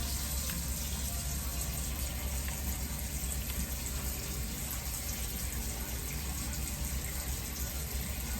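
Water runs from a kitchen sink tap in a steady, full stream, a constant close hiss and splash with no breaks.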